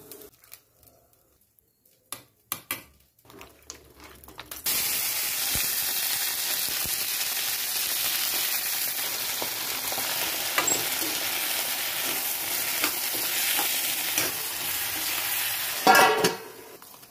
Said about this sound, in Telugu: నెక్స్ట్ టమాటాలు ఉల్లిపాయలు కూడా మనం వేయించేసుకుందాం.